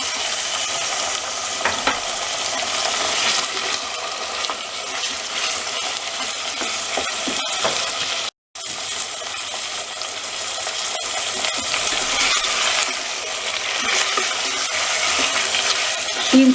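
Chicken pieces fry in a pan with ginger garlic paste, a steady dense sizzle with scraping and stirring clatter throughout, broken by a brief silent gap midway, close and without voices.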